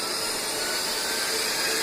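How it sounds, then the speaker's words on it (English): Turbo fans of a GX CS2 budget air compressor spinning up, a steady loud broadband whoosh with a jet-like whine held throughout. "You're going to hear the turbo fans kick on here."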